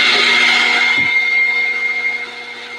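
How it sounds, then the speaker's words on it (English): Espresso coffee grinder grinding beans: a steady, loud whirring grind with a bright high whine that holds for the whole stretch, easing slightly toward the end, with a brief low knock near the middle. "I'm just going to grind through the entire thing and let it rock and roll."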